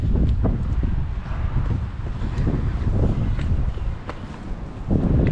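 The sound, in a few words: strong wind at sea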